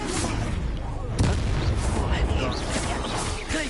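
Fiery Confringo spell blasts in Hogwarts Legacy combat, a dense run of booming explosions and crackling bursts, loud and close, with a sharp heavier burst partway through.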